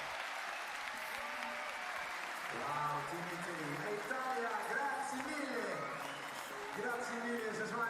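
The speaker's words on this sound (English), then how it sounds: "for all the cheering during this A final." Spectators at the European Short Track Championships in Tilburg cheer and applaud after the A final, a sustained roar of clapping and shouts that swells midway, with an announcer talking over it.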